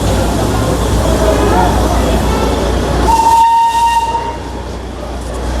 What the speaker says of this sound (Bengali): তো আমাদের ট্রেন ছাড়বে।